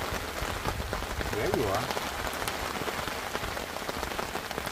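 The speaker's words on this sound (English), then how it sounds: "This is starting to become some serious rain here." Heavy rain pours steadily on a tarp shelter in a pine forest nearby, a dense constant patter, with a brief spoken voice partway through.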